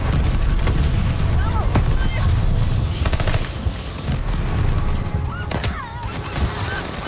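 Heavy automatic gunfire and explosive booms from a Goliath killstreak in the video game Call of Duty: Vanguard, in a Shipment team deathmatch, rattle continuously and loudly with crashes mixed in, while a voice talks over the top.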